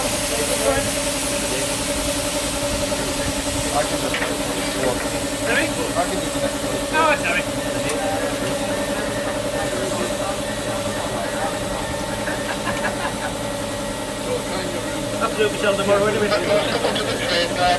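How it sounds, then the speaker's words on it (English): A steam tank engine locomotive with a tender on the South Tynedale Railway hisses and chugs steadily, its low rumble and sharp steam bursts running throughout while people talk nearby. "This is a tank engine with a tender."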